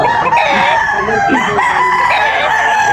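A rooster crows loudly and close by at a busy chicken market in Tabunok, Talisay, one long harmonic call over a constant crowd murmur.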